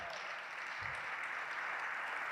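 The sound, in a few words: audience applause for the catering crew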